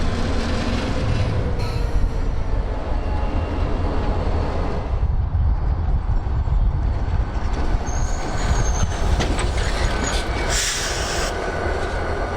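A freight train rolls steadily past toward the yards, its loud continuous rumble broken by high wheel squeals and a brief hiss of air brakes near the end.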